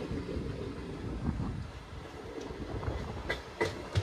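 A MEMU passenger train running between Khammam and Bhadrachalam Road gives off a low, steady rumble, heard from on board, with faint rhythmic clacks of wheels over rail joints near the end.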